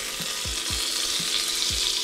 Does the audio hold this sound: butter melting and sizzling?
yes